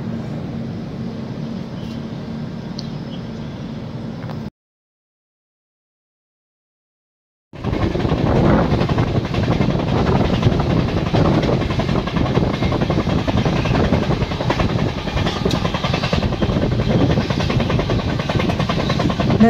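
The Venkatadri Express passenger train runs along the track, a steady heavy rumble and rattle of carriages that cuts out for a few seconds of silence, then returns louder and rougher as the train gets going again.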